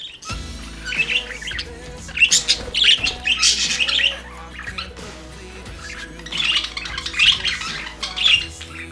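Budgies squawk and chirp in an aviary, a close, loud chorus of shrill calls in repeated bursts with brief lulls between them.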